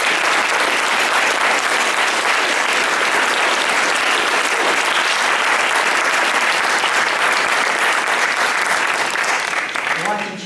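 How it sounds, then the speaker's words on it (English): Steady, loud applause from an audience at a community forum, sustained throughout and fading slightly at the very end, with a few voices mixed into the crowd. "let's give a round of applause"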